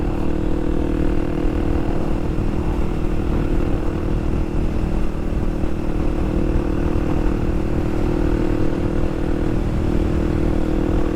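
A motorcycle engine runs steadily during a ride on a beginner-friendly play bike, a loud, continuous drone that holds an even pitch throughout with no voices over it.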